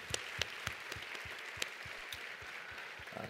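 A church congregation at a Christmas service claps in welcome for visitors, a faint, steady wash of applause in a large room with a few louder individual claps standing out.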